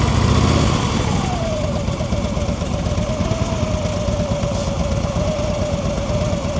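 A motorcycle engine runs steadily at low revs during slow-speed riding practice, a constant mid-pitched drone with a slight pitch drop early on, close and continuous with no talk.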